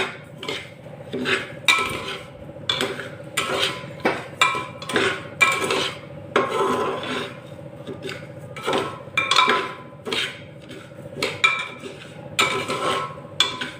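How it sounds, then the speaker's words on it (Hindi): Dry broken wheat (dalia) roasted in a pan for a sweet dalia recipe, with a steady run of close metallic scraping and clinking as a spoon stirs it, rhythmic and fairly loud, no talk. "भूनने से क्या होता है, क्रिस्पीपन आती है और दलिये में बहुत ही अच्छा टेस्ट आता है।"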